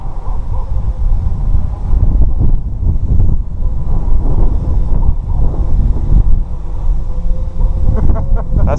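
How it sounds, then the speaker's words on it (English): Wind gusts buffet an outdoor microphone in a roughly 10 mph breeze during a quadcopter test flight, rumbling and loud throughout with uneven low surges, people talking over it. "That wind's blowing 10 miles an hour too."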